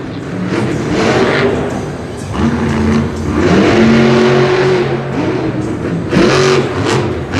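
Loud engine of the Wolf's Head Monster Jam monster truck, revving in repeated surges and swells that rise and fall over several seconds at a stadium show.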